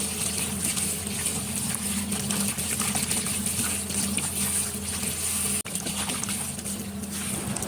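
Vegetables, including cucumber, are washed under running tap water, a steady close hiss and splatter of flowing water with a sharp brief break partway through.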